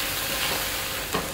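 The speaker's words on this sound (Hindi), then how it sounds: "कंटिन्यूस मैंने इसके अंदर इस चम्मच को चलाया है" Chicken stirred with a spoon in a pan over a medium-to-low flame gives a steady close sizzle with soft scraping throughout and one brief louder clink near the end.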